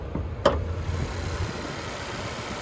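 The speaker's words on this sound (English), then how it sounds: "But there's that 2-liter 4-cylinder engine" A 2024 Nissan Sentra's 2-liter four-cylinder engine idles with a steady low rumble and faint vibration, interrupted early by a brief click, then continuing evenly.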